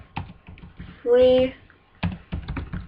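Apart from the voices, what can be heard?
typing on computer keyboard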